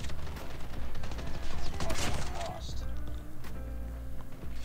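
Rapid shotgun blasts from the Damascus R9-0, fired semi-automatically in a video game, crack out in a quick run mid-clip over continuous game noise, with a voice talking throughout.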